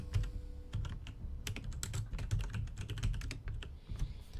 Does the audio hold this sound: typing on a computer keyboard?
yes